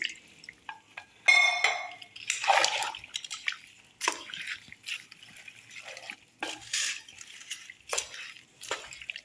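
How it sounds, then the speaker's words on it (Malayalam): Water poured into a pot of Kerala-style beef varattiyathu and stirred, giving irregular splashes, drips and scraping clinks up close with brief pauses between them, no voices. "പിന്നെ ആവശ്യത്തിന് വെള്ളവും ചേർത്ത് നല്ലപോലെ ആളാക്കി"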